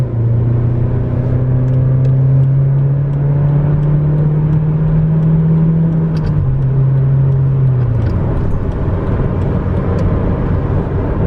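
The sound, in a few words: Honda Civic 1.8 i-VTEC FN2 acceleration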